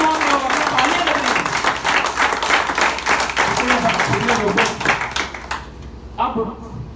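An audience at a training session applauds loudly and continuously, the clapping fading out near the end with a few scattered claps.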